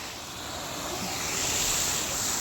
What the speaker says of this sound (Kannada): ಎಷ್ಟು ದೊಡ್ಡ ಫಾಲ್ಸ್ ನೋಡಿ